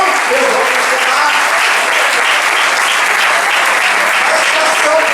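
Loud, dense applause from a congregation at a ministerial church meeting, a continuous roar of many hands clapping together without pause.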